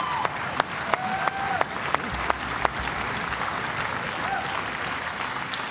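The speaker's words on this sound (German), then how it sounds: "Großen Applaus." Steady applause from a German television studio audience after a child's tap-dance performance, a dense wash of many hands with a few sharper nearby claps, sustained for several seconds.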